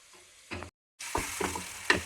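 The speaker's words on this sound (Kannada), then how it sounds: "ಈರುಳ್ಳಿ ಬೆಳ್ಳುಳ್ಳಿ ಹಸಿಮೆಣಸಿನ್ಕಾಯಿನ ಸ್ವಲ್ಪ ಎಣ್ಣೆ ಹಾಕೊಂಡ್ಬಿಟ್ಟು ಆಡಿಸ್ತಾ ಇದ್ದೀನಿ" Onion, garlic and green chillies sizzle in a little oil while being stirred, with a few short scraping stirs; there is a brief dropout in the middle, then the frying resumes at moderate loudness.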